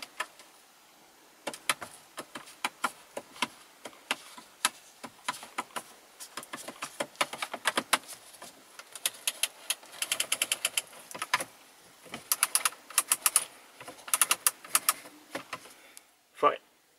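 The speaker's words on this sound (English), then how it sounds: "I like the sound of of the button it makes. Here's some ASMR." Climate control buttons in a 2015 Ford EcoSport 1.5 TDCi Titanium pressed over and over, giving crisp close plastic clicks in irregular bursts and quick runs, quiet in a still cabin with a short thump at the end.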